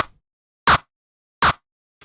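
Two tight synthesized kick drum punch hits made in FL Studio, squashed by a limiter, land evenly spaced and loud with nothing else sounding between them.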